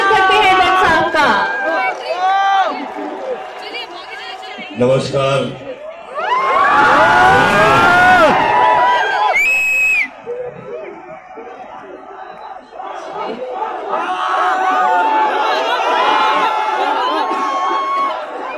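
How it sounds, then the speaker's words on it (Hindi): Audience at a celebrity appearance at Chandigarh University cheering and clapping: loud, excited crowd shouts and whoops in bursts, heaviest in a big swell partway through, with a voice speaking over the noise. "तालियों से स्वागत करते हैं बच्चा का"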